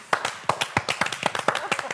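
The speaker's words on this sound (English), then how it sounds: "Can we just take a pause to do a slow clap to standing ovation for this look?" A slow clap given as a standing-ovation gesture during a talk-show chat, with a handful of people clapping in steady, quickening rhythm close to the microphone and light talk mixed underneath.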